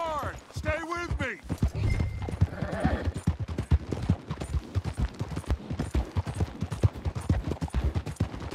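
Rapid clip-clop of galloping horses runs throughout with a brief whinny near the start, under excited shouted voices in the Red Dead Redemption 2 game soundtrack.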